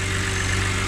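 A BMW E90 with the N52B30 engine idling after restarting, a steady loud low rumble with even vibration, heard briefly with no talking.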